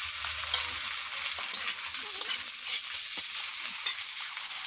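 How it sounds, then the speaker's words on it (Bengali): Chopped onions fry in a pan with a bright, steady sizzle while a spatula stirs and scrapes in short, uneven strokes close by. "পেঁয়াজ কুচি, একটু পেঁয়াজ রেখে একটু ভালো করে ভেজে নিচ্ছি।"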